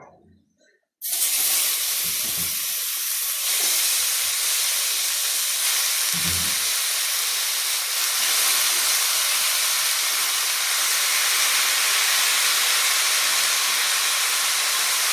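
Washed chicken dropped into hot ghee with toasted spice powders for a coconut and black pepper chicken roast, bursting into a loud, steady sizzle that starts abruptly and hisses on unbroken, with a couple of soft clunks near the start.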